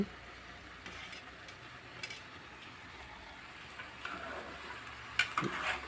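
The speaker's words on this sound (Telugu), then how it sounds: "చక్కగా కలుపుకోవాలి" Chicken curry with tomatoes is stirred in a pot, giving faint, quiet sizzling and soft intermittent scrapes and taps, with a few sharper clinks near the end.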